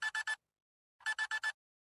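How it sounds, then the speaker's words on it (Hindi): An alarm clock beeps at 5 a.m. in sharp electronic bursts, first three quick beeps, then a pause, then four more, clear and alone. "अगली सुबह 5 बजे वाला अलार्म तेजी से बज रहा था।"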